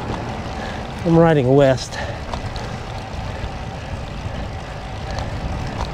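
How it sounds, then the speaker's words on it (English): Wind buffets the microphone of a cyclist on a road ride along the Atascocita, Walden and Huffman route, a steady broadband rumble running throughout, with someone speaking briefly near the start. "I'm feeling some of that wind."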